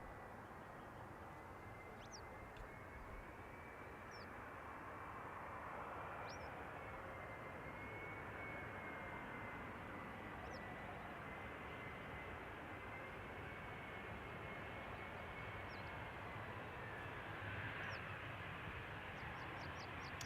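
An airliner arrives from Prague onto runway 18R at Amsterdam Schiphol, heard as a faint, distant, steady engine drone with a thin whine riding on top for the whole stretch.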